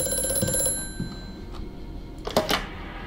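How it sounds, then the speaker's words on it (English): An old telephone rings in the horror video game Amnesia: A Machine For Pigs, its bell repeating as a faint tonal ring over a dim, quiet background. "The phone is ringing?"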